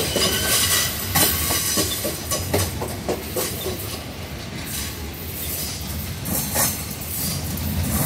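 A VLi freight train descends the Serra do Mar, giving a loud, continuous rumble with rhythmic clickety-clack of wheels over rail joints and occasional squeals of wheels, heard up close.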